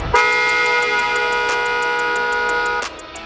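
A loud, steady dual horn on a Yamaha NMAX motorcycle blares continuously for nearly three seconds, measured at 112 dB, then cuts off abruptly, leaving faint background noise.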